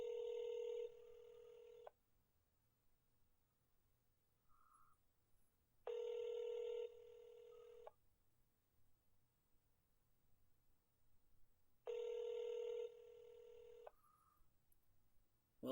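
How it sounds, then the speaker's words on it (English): An outgoing telephone call rings back three times, each ring about two seconds long and spaced roughly four seconds apart, steady and fairly faint over a quiet line. "Well, at least it's ringing."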